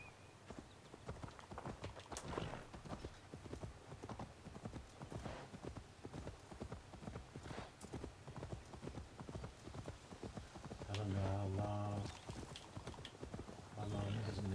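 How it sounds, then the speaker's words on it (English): Rhythmic clip-clop of horse hooves at a steady gallop in Assassin's Creed Valhalla, close and continuous, with a brief tonal chime near the end. "Can I get my horse now?"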